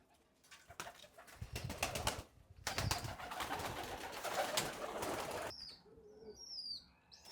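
Bukhara pigeons with white-marked plumage coo and flap about close by, a dense stretch of wingbeats and soft cooing that drops away near the end, leaving a few scattered chirps.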